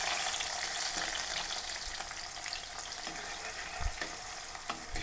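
Crushed shallots hiss in hot oil in a pan for a fish-head curry, a dense, steady sizzle with occasional stirring knocks, close and alone with no talk.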